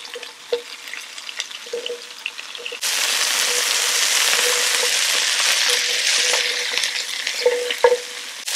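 Shallots, celery, mushrooms and carrots roast in a pan at an outdoor kitchen for coq au vin. A soft scraping and clinking gives way abruptly to a loud, sustained sizzle with occasional utensil knocks close by.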